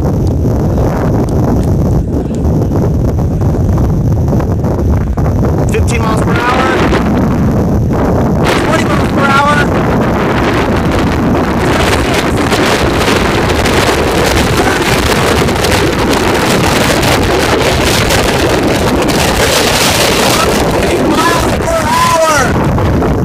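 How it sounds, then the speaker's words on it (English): Heavy wind buffets the microphone while a bicycle races fast downhill, a loud continuous roar with gusty surges and no clear speech. "Go to ride this bike downhill. Let's see how fast we can go."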